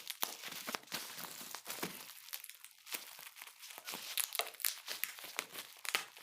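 Plastic wrapping crinkling and crunching close up as a parcel of Raj Comics is unboxed, in rapid irregular bursts with no talk.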